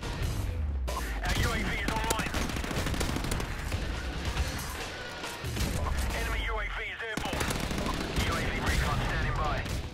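Submachine gun fire in the video game Call of Duty: Modern Warfare Remastered, dense continuous rattling bursts and impacts layered with game ambience, loud and busy throughout with a voice talking intermittently over it.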